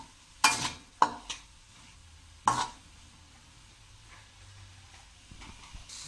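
Chicken, carrots and potatoes stir-fried in oil, with a few sharp clanks of a spoon against the pan over a low, quiet sizzle.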